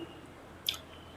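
Soaked soya chunks are squeezed by hand to press out water, one short wet squish with a drip, close and fairly quiet.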